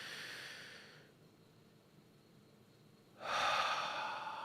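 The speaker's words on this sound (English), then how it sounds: "Nice big deep breath." A person draws a long, deep breath during a guided tapping session: a steady airy inhale fades into a quiet pause, then a strong, close, breathy exhale rushes out.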